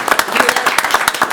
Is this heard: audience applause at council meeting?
yes